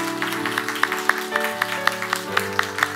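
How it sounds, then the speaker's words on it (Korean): A church congregation at a Sunday service claps together, steady dense applause with scattered sharper claps standing out, sustained throughout. "이런 박수 한번 할까요? 하나님께."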